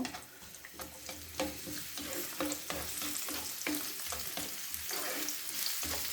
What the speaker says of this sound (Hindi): ये जो प्याज, स्मॉल वाला प्याज है, इसको मैंने बारीक काट लिया है। इसको मैं फ्राई करूँगी